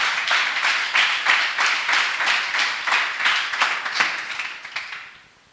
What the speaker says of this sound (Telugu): గట్టిగా చప్పట్లు కొట్టి దేవుని నామాన్ని మహిమపరుద్దామండి